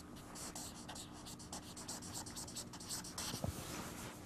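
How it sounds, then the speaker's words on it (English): Chalk or marker scratching across a classroom board during a physics lecture, a steady run of short strokes and taps, close and fairly quiet. "So I would like to write that down in its more general form."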